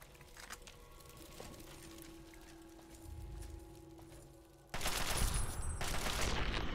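Enemies fire shotguns in a Fallout game, opening with faint scattered shots and a rumble, then breaking into a loud, dense burst of rapid gunfire near the end.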